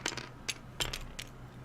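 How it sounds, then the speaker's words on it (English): A six-sided die is rolled on a tabletop during the Pathfinder Adventure Card Game, giving a few sharp, separate clicks and taps as it tumbles and settles, close and alone. "We're going to roll a d6 to see who ends up with it."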